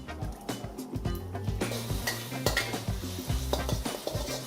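Pad thai noodles with salted radish and a splash of broth are stir-fried in a pan, with a utensil scraping and clinking against the metal over a soft sizzle, close up and steady.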